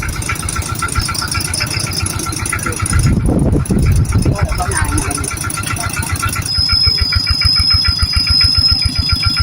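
A tractor engine chugs steadily and loudly throughout, its rhythmic low rumble swelling briefly in the middle as it works.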